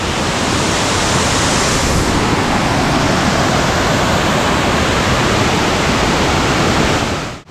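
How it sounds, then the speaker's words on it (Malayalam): Paathi waterfall in the Arag forest thunders with a loud, dense, unbroken roar of heavily falling water heard from close by, before the sound cuts off abruptly at the end. "നല്ല പവറുണ്ട് വെള്ളത്തിന്. ഇതാണ് വെള്ളച്ചാട്ടം."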